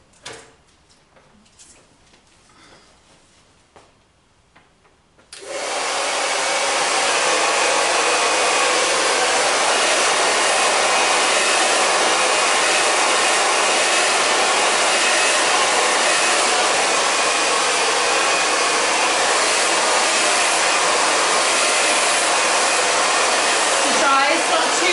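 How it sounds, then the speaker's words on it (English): A hair dryer blows steadily and loudly on a client's hair in a salon, switching on after a few seconds of quiet handling noises and running continuously to the end. "The dryer's not too hot for you."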